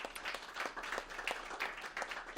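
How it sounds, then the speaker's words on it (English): A small audience at a community health talk gives a brief round of applause, scattered individual claps close together, fairly faint and lasting only a couple of seconds. "Everybody, round of applause for them."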